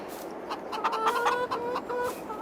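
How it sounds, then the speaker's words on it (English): Chickens clucking in the farming video game Farming Simulator 22, several short repeated clucks and squawks close by, with no talking over them. "Chickens."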